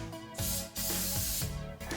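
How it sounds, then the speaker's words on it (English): Cooking spray hisses onto greasy hands over a kitchen sink in two or three quick, close bursts, each a loud broadband spritz separated by short pauses. "We'll spray our hands."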